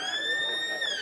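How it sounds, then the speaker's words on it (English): A long, steady electronic siren sounds at a country football ground to start the last quarter of a Birchip Watchem versus Sea Lake Nandaly match, a loud, sustained tone with harmonics that holds level throughout. "And the siren goes"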